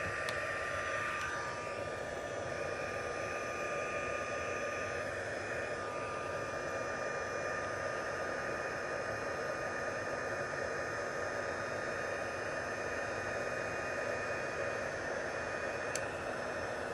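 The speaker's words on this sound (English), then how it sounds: "So we're just going to bring in our heat gun." A heat gun blows steadily while drying puff paint on a sign, a constant airy whooshing hiss with a faint whine, moderately quiet and unbroken throughout.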